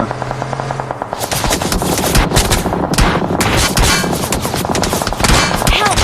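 PUBG Mobile gunfire rattles out in fast automatic bursts, loud and close, with single shots and distant volleys mixed in, repeating over several seconds with no speech.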